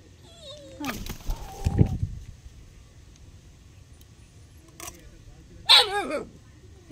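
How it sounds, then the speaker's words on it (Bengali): A dog yaps and barks in short outbursts while chasing a chicken outdoors, with a couple of separate sharp barks amid quiet background and someone talking nearby. "এই মুরগিটাকে তাড়াচ্ছে, কুকুরটা এত বদমাস বলার মতো না।"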